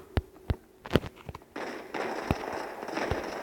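A grenade blast in a shooter video game: several sharp pops are followed by a sustained crackling, rumbling burst that fills the second half, heard close and fairly loud.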